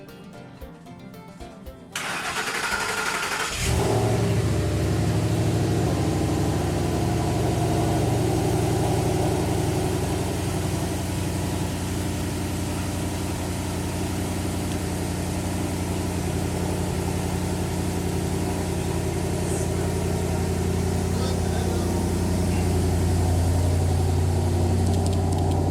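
A wrecked 2011 Mustang GT cranks and fires after a couple of seconds, then settles into a steady, loud, close idle with a low rumble that holds for the rest of the stretch.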